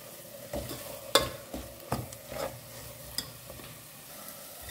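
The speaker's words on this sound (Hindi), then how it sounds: "तो ड्राई हम इसे 1 मिनट के लिए अच्छे से भून लेते हैं।" Dry spice paste for crab sukka being roasted in a hot pan, with a soft sizzle under intermittent scraping strokes and clinks of a spoon, close by.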